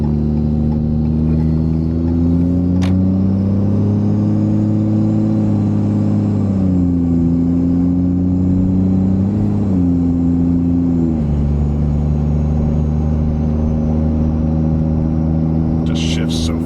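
A Ram 2500 pickup with a 4.30 gear swap climbing an incline, its engine droning steadily and loudly from inside the cab, pitch rising then dropping at several quick gear shifts.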